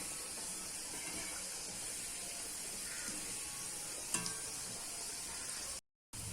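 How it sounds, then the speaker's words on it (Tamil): Balls of gram flour and semolina dough fry in oil over a medium flame, giving a steady, even sizzle throughout with one brief clink midway and a short dropout near the end. "போட்டு பொரிச்சு எடுத்துக்கலாம்."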